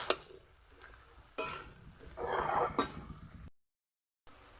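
Malabar spinach (pui shaak) with salt, turmeric and oil is stirred in a pan, giving soft scraping and clinking strokes over a faint sizzle, quiet and close, with a short silent gap near the end.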